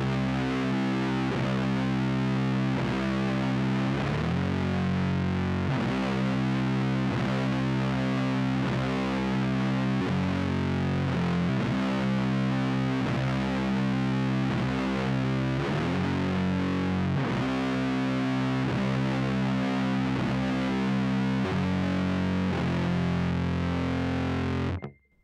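Heavy distorted electric guitar riff in C standard tuning, a thick, loud and continuous low sludge of chugging notes that plays alone without pause.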